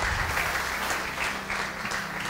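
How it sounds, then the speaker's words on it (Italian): Audience applause at an Italian dinner event with sports champions, a steady dense patter of clapping, fairly loud and close, with faint voices underneath. "facciamo un bel applauso a Barbara."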